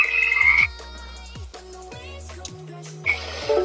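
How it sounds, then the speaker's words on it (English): A vibrating squeeze toy gives out a loud electronic frog croak, a series of close, rhythmic ribbiting calls running continuously for a few seconds with no talking. "I don't like the frog noise. It's weird."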